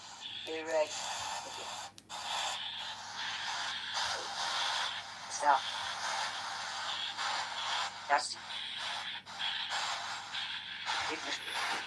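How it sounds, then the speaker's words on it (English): Dense hissing white noise from a spirit box radio during a livestreamed ghost box session, steady and fairly loud throughout, broken by brief choppy static bursts and fragments as the device sweeps. "This is what you call white noise."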